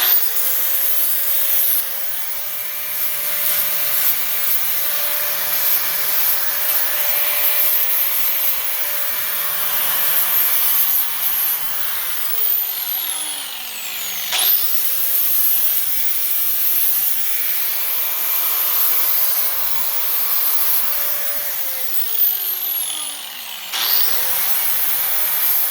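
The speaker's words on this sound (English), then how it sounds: "I'm just going to knock the burrs off and round the corners a little" A tiger polish pad on a grinder knocks burrs off steel and rounds corners while building a welding skid: a steady abrasive rubbing hiss with a whining motor that spins down twice, with no talk.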